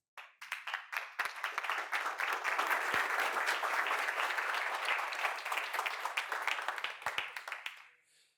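A crowd in an audience applauds with dense, continuous clapping that swells quickly, holds steady for several seconds and fades out near the end, with no talk over it.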